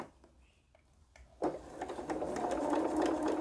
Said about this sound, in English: Go ahead and sew the second line.